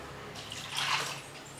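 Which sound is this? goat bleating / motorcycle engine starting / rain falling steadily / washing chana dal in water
washing chana dal in water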